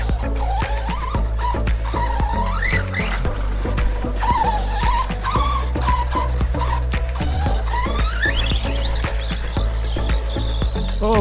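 A Team Associated MT8 or Arrma Outcast 4 RC truck pulls a wheelie across a field. Its motor whines and rises and falls in pitch while the tires scrabble and skid, loud and close for the whole stretch.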